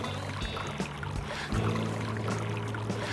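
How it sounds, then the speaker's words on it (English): Water gushes and splashes steadily through the gills of a striper being revived beside a bay boat on the Hudson River in New York City, a continuous close sloshing with a few swells. "we're putting water through his gills just so he gets back to life here"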